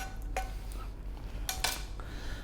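A utensil scrapes and taps against a pan while tomato sauce is spread over fried eggplant, giving a few quiet, close metallic clinks and scrapes at an irregular pace.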